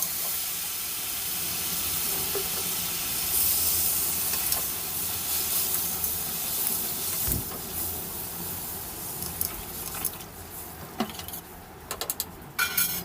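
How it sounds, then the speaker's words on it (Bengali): Water poured into a hot pan of sautéed pointed gourd and potato sends up a loud, sustained steamy hiss, fading into sputtering sizzles with intermittent clinks and scrapes near the end. "এবার আমরা পরিমাণ মতো জল দিয়ে দেব।"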